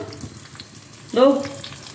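Green chilies sizzle softly in oil in a pan as they are stirred, with a brief louder burst of frying midway through the quiet background.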